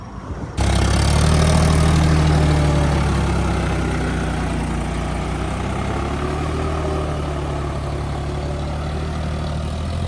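Heavy John Deere tractor engine starts abruptly and keeps running at a steady, low idle, a close droning rumble throughout with no talking.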